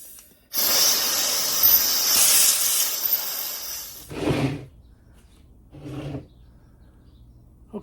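Compressed air blasts through a 1972 Volkswagen Super Beetle oil cooler, a loud sustained hiss lasting several seconds, followed by two short, separate bursts of air after brief pauses.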